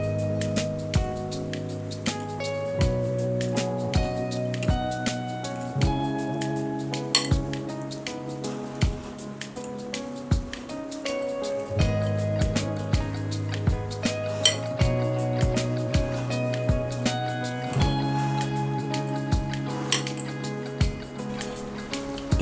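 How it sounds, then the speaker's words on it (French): A utensil stirs a Greek tyropita cheese filling seasoned with oregano in a bowl, giving repeated clinks and scrapes in a steady rhythm against a background of sustained music. "Une fois tout ajouté, on va tout mélanger bien."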